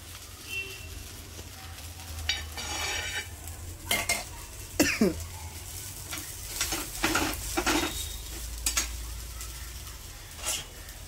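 An egg dosa cooking with ghee on a griddle, giving a low steady sizzle beneath repeated scraping and clinking of a spatula against the pan, close and moderately quiet, with no one talking.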